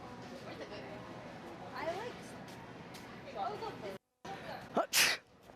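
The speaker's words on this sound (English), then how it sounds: "Achoo!" A man fakes a loud sneeze as a prank in a Walmart store; after background chatter and voices, a single sharp, close, explosive sneeze bursts out near the end.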